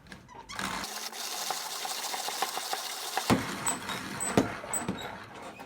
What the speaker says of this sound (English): So a fast grinder there, 17 or 18 turns of the handle.